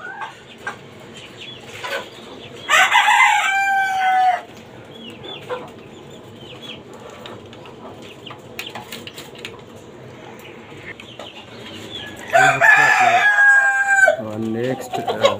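Tiger breed chickens and a rooster kept in a rooftop cage, with two loud crowing bursts from the rooster and scattered clucking in between.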